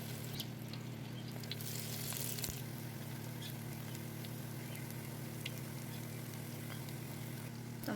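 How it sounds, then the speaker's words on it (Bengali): Bottle gourd flowers fry in a pan as fritters, a steady, fairly faint sizzling hiss with a low hum underneath and a few small pops. "লাউ ফুলগুলা ভেজে নেব।"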